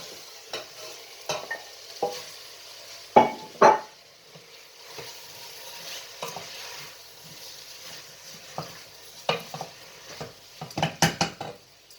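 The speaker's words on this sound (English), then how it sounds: "So I've shredded down the onions and the garlic there, to which now I will put the meat." Meat tipped into a pan of frying shredded onions and garlic for a curry, with soft sizzling under scattered scrapes and stirring knocks of a utensil against the pan, a couple of louder clatters, no talking.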